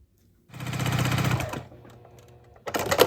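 A sewing machine stitching half square triangles for a quilt block runs in a quick whirring burst, pauses to a faint hum, then starts again, close and fairly quiet.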